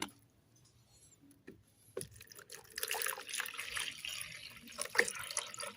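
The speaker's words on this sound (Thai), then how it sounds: "เราเทน้ำเปล่าลงไปนะครับ" Water pours and splashes into a container, starting after a couple of quiet seconds and growing into a steady, close trickling stream.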